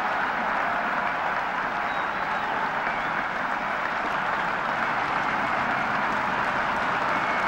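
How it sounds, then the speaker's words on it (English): A big crowd at Lord's applauds continuously during the 1973 Benson & Hedges Cup final between Kent and Worcestershire, producing an even, sustained wash of clapping with no talk over it. "everybody, and quite rightly so, not only applauding Luckhurst at the end of the innings"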